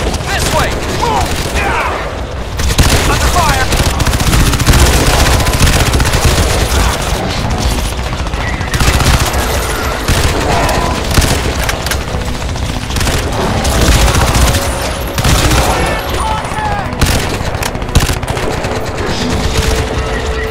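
Heavy, sustained gunfire in the shooter Crysis 2, loud continuous bursts and fusillades with booming impacts throughout, close and dense.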